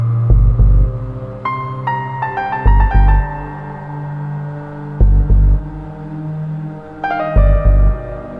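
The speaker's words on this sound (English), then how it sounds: "Heartbeat sound." A deep, thudding heartbeat effect in an electronic track pulses in a slow double-beat rhythm beneath sustained melodic tones and bass, loud and close.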